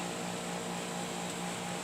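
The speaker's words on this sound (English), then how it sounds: "sorry about that noise in the background," A steady pump hums in the background of an indoor space, a constant droning whir with no change in level for the brief moment.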